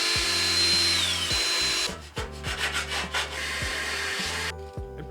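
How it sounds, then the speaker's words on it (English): A power drill boring holes into computer case sheet metal: a loud steady whine that dips in pitch, then several shorter grinding bursts as the bit works through, ending abruptly. "used that to drill out a few holes in the sheet metal"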